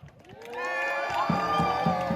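At an outdoor protest, a crowd bursts into cheering and clapping that swells from near silence, with high shouting voices and rhythmic claps growing louder toward the end.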